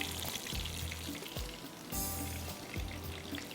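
Seekh kebabs fry in a pan with a steady, close sizzle and crackle, broken by brief louder spits and bubbling bursts, with no voices.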